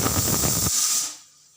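A kitchen pressure cooker of whole moong dal lets out a loud burst of hissing steam close by, which cuts off and trails into a fading hiss, with no voices.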